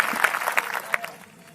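An audience claps for a guest, a judge, at a Christian preaching gathering: a short burst of applause from a nearby crowd that fades out within about a second.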